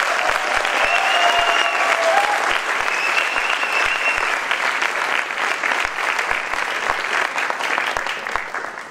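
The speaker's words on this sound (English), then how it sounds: "One big round of applause as we start the contest." An audience at a Toastmasters table topics contest opening bursts into loud, sustained applause, dense clapping with some cheering, slowly easing near the end.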